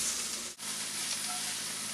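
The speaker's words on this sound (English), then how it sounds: "you want to keep these pans hot as the vegetables cook" Vegetables sizzle in a hot pan with a little sesame oil, a dense, steady frying hiss close by with one brief dip in the noise, no voices.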